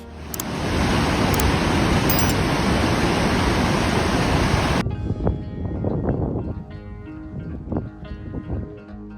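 Broad, steady roar of rushing water from snow-covered Niagara Falls fills the first half loudly, then cuts to a quieter, more uneven wash of water and wind.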